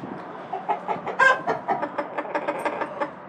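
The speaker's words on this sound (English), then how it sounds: "the chickens came to say hi" Chickens cluck in a steady series of short, close calls, one louder squawk standing out partway through.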